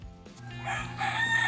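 A rooster crows once, a long rising then sustained cock-a-doodle-doo, fairly close and clear.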